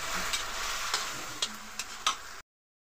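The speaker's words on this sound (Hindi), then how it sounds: "अच्छे से हम इसे मिक्स कर देंगे।" A spoon stirs potatoes frying in a pan, making a steady sizzle up close, broken by a few sharp scraping taps against the pan before the sound cuts off.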